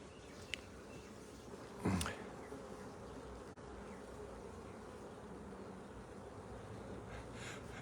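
Honeybees buzz steadily around an open hive during a spring hive split, a continuous dense hum with a brief louder burst near the start.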